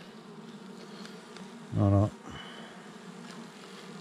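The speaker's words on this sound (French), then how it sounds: "il y a un peu des abeilles aussi qui..." Bees hum steadily around a hive, a low continuous buzz throughout, with one loud bee flying close past the microphone in a brief swelling drone, and a person speaks once.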